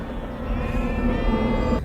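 A sustained sheep bleat plays as a sound effect in a school annual-day Malayalam stage drama, one long wavering cry heard loud over a steady hall ambience.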